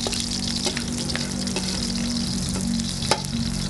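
Garlic and onion sautéing in oil for beef caldereta, a steady close sizzle with faint stirring scrapes and no talk.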